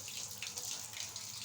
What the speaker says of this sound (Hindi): अब मैं इसको पानी डालूंगी दूसरा